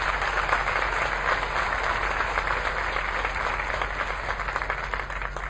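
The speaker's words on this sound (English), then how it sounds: "Let's please give them another round of applause." Audience applause at an eighth grade graduation ceremony, a steady wash of many hands clapping throughout a large room, fairly distant and evenly sustained.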